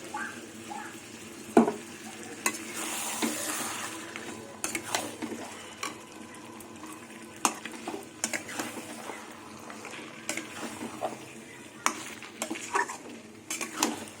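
Mutton curry with potatoes is stirred in a pan, giving a run of scraping spoon strokes and light metal clinks over a soft, steady sizzle, with occasional sharper knocks against the pan.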